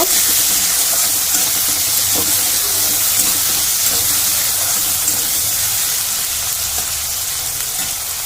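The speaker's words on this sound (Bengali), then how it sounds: "লবণ দিয়ে ভালো করে কষিয়ে নেব" Fish biryani masala sautéing with salt in a pan for Bengali rui fish biryani, giving a steady, close, continuous sizzle and frying hiss throughout with occasional faint stirring scrapes, no voices.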